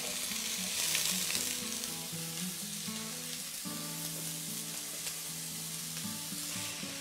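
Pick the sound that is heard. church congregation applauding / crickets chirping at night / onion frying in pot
onion frying in pot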